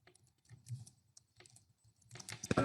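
Sparse keystrokes tap on a computer keyboard while an email is entered into a form field, soft clicks at first, then a quicker, louder flurry of typing at the end.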